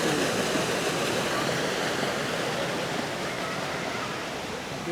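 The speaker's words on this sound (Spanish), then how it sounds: "fijaos qué cascada tenemos aquí, que ahora vamos a ver desde abajo, que sale justo desde aquí, del mismo monte" A waterfall pours down the hill in María Luisa Park, a dense, steady rushing roar of falling water, loud and close, with no pauses.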